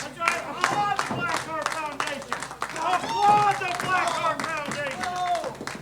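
A wrestling arena crowd claps in rhythmic bursts throughout the match, steady and fairly loud beneath continuous commentary from announcers talking over it.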